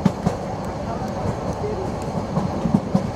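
The Sonar Bangla Express, hauled by a 3000 series locomotive, leans through a curve near Akhaura Junction, its wheels rolling in a loud steady rumble with rhythmic clicks over the joints, heard from inside the coach.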